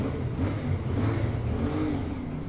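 A CFMOTO Ibex 450 motorcycle engine revs steadily inside a mine tunnel, a loud, continuous mid-pitched drone with slight rises in pitch that holds for the full stretch with no talking.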